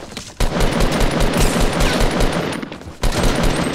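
Fortnite gunfire in dense, rapid automatic bursts, loud and continuous with brief pauses between volleys, sounding close and overwhelming.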